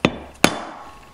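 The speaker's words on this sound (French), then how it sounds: "à l'aide d'un chasse et du marteau, d'un maillet, vous pouvez le descendre à sa place." A mallet and drift tapping a gearbox bearing into place on a Minarelli AM6 50cc moped engine: two sharp, close metallic knocks about 0.4 seconds apart, each followed by a short ringing decay.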